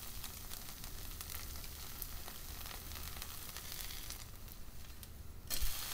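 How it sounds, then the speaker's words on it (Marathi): Wheat-flour dhirde pancake sizzles steadily in a pan as its second side roasts, a soft, continuous frying hiss with a brief louder burst near the end. "दुसऱ्या बाजूने भाजून घेऊया."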